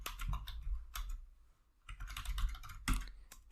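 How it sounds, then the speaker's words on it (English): Someone types an IP address on a computer keyboard, producing quick clusters of close, clear key clicks with a brief pause in the middle. "You can type your IP address."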